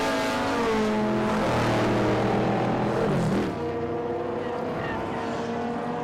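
Historic race cars power around the Winton circuit, engines loud and revving with a falling pitch sweep as one passes close by, then fading to a steadier distant drone.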